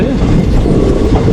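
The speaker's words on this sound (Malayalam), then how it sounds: "നമ്മൾ ആ ഉദുമൽപേട്ട റെയിൽവേ സ്റ്റേഷനിലോട്ട് കയറിക്കൊണ്ടിരിക്കുന്നു കേട്ടോ" A train rolls slowly into Udumalpet railway station toward platform one, its heavy low rumble and wheel clatter close and continuous.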